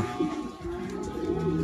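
A racing pigeon coos steadily in low, throaty tones after coming home from a derby race, with a faint continuous background hum throughout.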